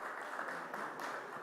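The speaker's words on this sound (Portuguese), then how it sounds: "Solicito mais uma salva de palmas." A brief stretch of steady audience applause at a public gathering, a soft, even wash of many hands clapping with no voices over it.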